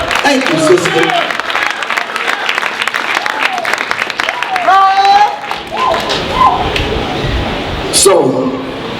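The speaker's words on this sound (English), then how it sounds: "Can we please give this sister a round of applause?" Applause at a hip-hop convention for a woman who has just performed two elements of hip-hop: loud crowd clapping fills the room while a voice talks over it.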